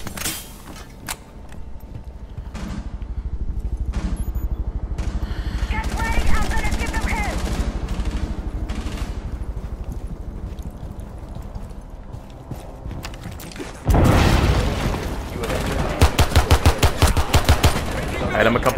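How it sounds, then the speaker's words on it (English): Pistol fire in Rainbow Six Siege, sharp gunshots cracking repeatedly in quick rhythmic runs alongside game sounds, with a louder dense burst of shots and clatter toward the end; a voice talks throughout. "murdering people with this pistol"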